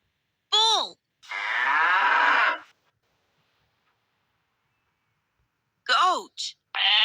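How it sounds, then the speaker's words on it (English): A bull lowing in a burst of deep moos with strong harmonic bands, separated by silence, followed by two shorter calls near the end; loud and close, with no talk. "bull,"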